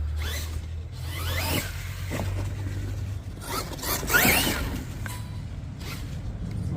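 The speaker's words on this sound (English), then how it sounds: "That noise is just the body grabbing on the tires." A Losi LMT RC monster truck's body rubs and grabs against its tires, giving a raspy, zipper-like scraping in several uneven bursts over a low steady motor hum, fairly close and moderately loud, with no talking.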